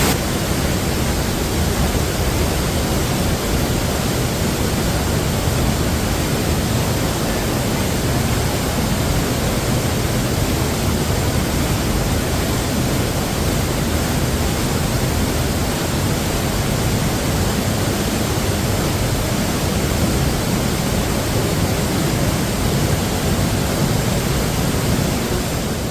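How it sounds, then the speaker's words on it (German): A small waterfall on the Kozjak stream in Slovenia's Soča valley, a loud, steady rush of falling water that stays constant and close throughout, with no voices. "Hier ist schon mal der kleine Wasserfall"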